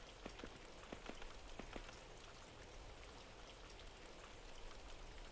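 Steady rain patters in a permanently raining land within the video game Primal, a soft, even hiss with scattered distinct drop ticks near the start.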